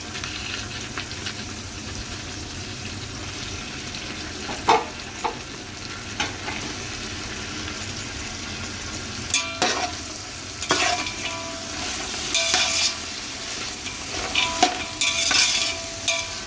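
Peas and cauliflower pieces fry in a pan for a vegetable biryani, a continuous sizzle broken by occasional sharper scraping stirs, close and without talk.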